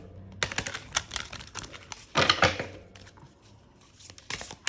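Oracle cards from a numerology deck are shuffled by hand, giving brisk papery riffles and soft slaps in quick irregular bursts with a louder flurry midway, close and alone with no talk.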